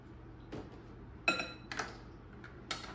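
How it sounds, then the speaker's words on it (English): A tablespoon dipped and filled with milk twice in a kitchen, heard as a few light metallic clinks and taps of the spoon against a container, with quiet gaps between them and no talking. "This is a 1 tablespoon, so I'm going to fill it up twice."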